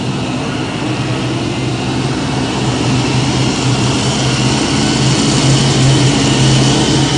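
A pulling tractor roars at full power during a truck and tractor pull in Sandwich, Illinois, a loud, dense, unbroken engine drone that holds steady for the whole stretch.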